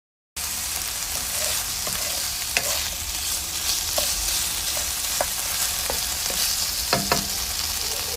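Pork stir-fries in a hot pan for soy sauce noodles, a dense, loud sizzle with intermittent spatula scrapes and clinks, heard up close with no voices.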